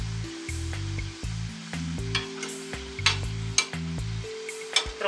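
Potatoes deep-frying in a small pot of hot oil, with oil repeatedly spooned over them; a steady close sizzle and bubbling broken by short metallic scrapes and clinks of the spoon against the pot.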